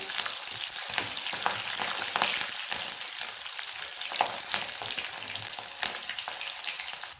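Mustard seeds and green chillies fry in hot oil, a steady close sizzle with scattered popping crackles throughout, no voices.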